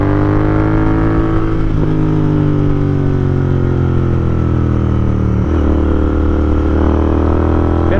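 A Royal Enfield Interceptor 650 motorcycle runs steadily under way, its loud engine droning with harmonic layers, with brief shifts in pitch near two and five and a half seconds and no talking.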